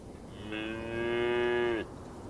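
A single Holstein cow moos in the Farm Together video game, one clear, sustained low call lasting about a second, near and alone over faint background hum.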